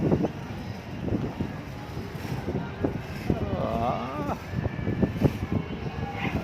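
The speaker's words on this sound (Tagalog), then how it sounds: "Lakas kasi ng hangin" Strong wind buffets the microphone outdoors during kite flying, a steady broadband rush with gusting swells throughout, while voices talk over it.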